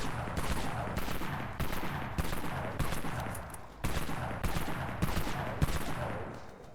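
In the Dead Frontier video game, a Jackrabbit B12 shotgun fires repeated loud bursts at an even pace, roughly a dozen booming shots close up with no speech.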